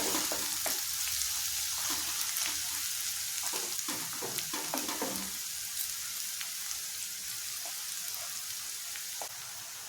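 Carrots and capsicum frying in a pan, a continuous crackling sizzle with scattered pops and stirring clicks, steady and fairly loud without voices.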